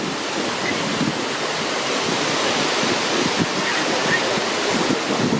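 Sea surf washes onto a sandy beach on a late-summer day, a constant loud roar of breaking water mixed with wind buffeting the microphone, with no clear voices.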